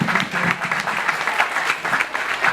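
Crowd applauding at a school alumni association speech at Lycée de Mboro, a sustained wash of many hands clapping together at an even level throughout.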